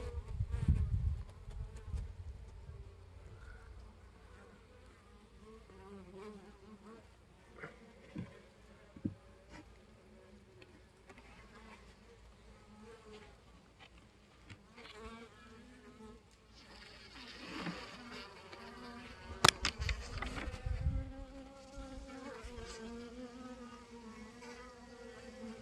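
Honey bees from an August swarm hum and buzz around an open hive, a soft steady drone with individual bees passing close and louder moments near the end, with faint talk at times.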